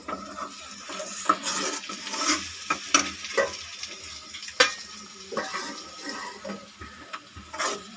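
Boiled eggs frying with chili powder in a pan, a steady sizzle with frequent scraping and tapping strokes of a spoon stirring close by.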